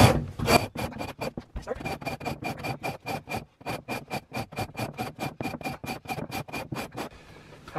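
A scraper rasps frost off a de Havilland Beaver aircraft in quick, regular strokes, about two dozen close scrapes with short gaps between them and no talk.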